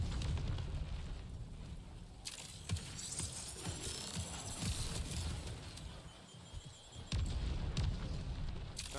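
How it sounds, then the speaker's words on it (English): Grenade blasts in a shooting video game, heavy low booms at the start and again near the end, with rumbling debris and crackle filling the gap, loud and close. "Grenades!"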